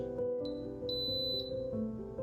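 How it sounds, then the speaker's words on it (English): Electronic beeps from an Instant Pot reaching the boil stage ring out, a short high tone followed by a longer one, over a steady low hum of appliance or room noise. "It has beeped now, which says that it has reached the boiling point."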